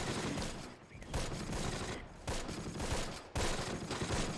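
A dense rifle and machine gun firefight from the World War II video game Close Combat, with sustained loud crackling gunfire and distinct heavier bursts landing about once a second, no voices.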